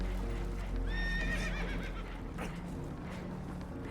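Spooked horses in the video game Red Dead Redemption 2 give a loud, close whinny with a trembling, rising-and-falling neigh over a low rumbling ambience on a boat taking on water.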